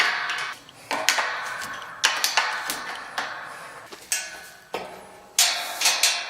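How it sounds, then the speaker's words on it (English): Wrench clicking and metal ticking while a nut is loosened on a carriage bolt of a livestock gate, a series of sharp close taps and clicks at uneven intervals with no talk. "just loosen this nut here on this carriage bolt"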